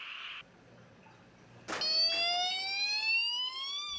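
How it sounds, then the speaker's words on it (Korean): An electronic alarm siren at a frontline military GOP guard post suddenly starts up at night after near-quiet, a loud rising wail with a strong harmonic tone that holds steady to the end. "고요한 밤에 울린 사이렌 소리에 긴박하게 움직이는 상황실"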